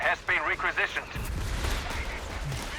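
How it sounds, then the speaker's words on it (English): Mortar fire in Company of Heroes 3, a 2v2 World War II battle, heard as a burst of booming low rumble that rolls on steadily after a brief stretch of commentary voice at the start. "Mortar fire."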